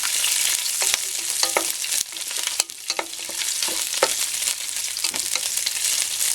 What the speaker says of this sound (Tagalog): Prituhin natin dito sa cooking oil.